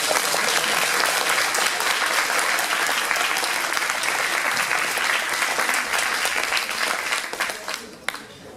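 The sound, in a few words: audience applauding a cosplay contestant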